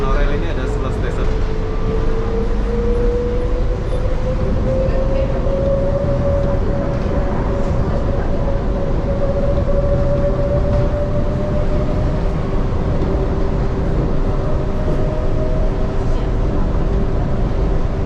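Kuala Lumpur monorail train running along its elevated track, a loud, constant rumble from inside the car with an electric motor whine that slowly rises and then holds steady throughout.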